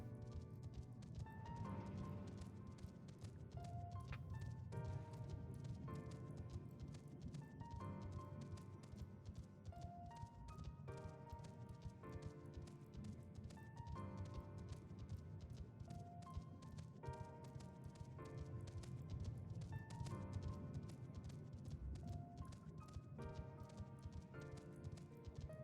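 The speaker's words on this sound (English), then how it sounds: "We're gonna go horse racing." Galloping hoofbeats run during a horse race in the video game Final Fantasy XIV, a rapid, steady clip-clop rhythm that continues throughout alongside a quiet musical score, with no talking.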